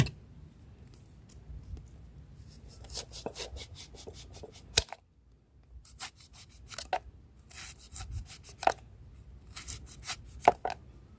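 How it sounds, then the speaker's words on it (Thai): Knife slicing kaffir limes on a board for a homemade insect repellent, heard as irregular clusters of crisp cutting strokes, fairly close and moderately quiet, with short pauses between bursts and no talking. "เราหั่นมะกรูดนะคะ หั่นมะกรูดลงไปเลย"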